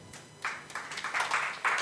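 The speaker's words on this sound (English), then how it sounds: "Another round of applause to Anna Merrifield, Deputy Head of the EU Delegation" An audience at a press freedom report launch claps for a guest, scattered hand claps starting sparse and thickening into light applause, fairly close and without talk.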